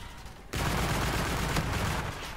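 Rapid continuous automatic gunfire from a weapon in the video game Call of Duty: Infinite Warfare starts abruptly and stays loud and dense, with steady rattling bursts filling the scene.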